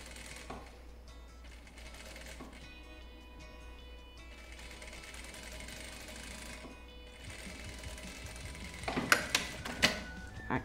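A sewing machine runs at a low, steady level while topstitching a seam guided along the edge of the presser foot, followed by a few sharp clicks and taps at the end.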